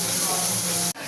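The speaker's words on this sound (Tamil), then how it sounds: "அரைச்சி வச்ச வெங்காயத்தை போடணும்." Ground onion paste hits hot oil with a loud, dense sizzle and hiss that cuts off sharply near the end, in a Thirunelveli-style fish kulambu.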